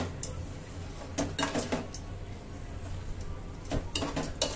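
Cooked rice is stirred in a pan with a utensil, giving light intermittent scrapes and clinks in small clusters over a low background hum.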